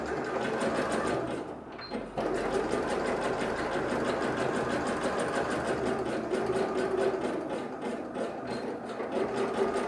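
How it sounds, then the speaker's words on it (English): A sewing machine runs a zigzag stitch along the edge of a pleated skirt, giving a continuous fast mechanical whirr and rattle up close that dips briefly near the start and then runs steadily without voices. "I'm going to take it to the sewing machine and I'm going to sew down the edge here"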